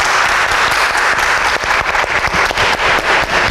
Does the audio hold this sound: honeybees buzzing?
no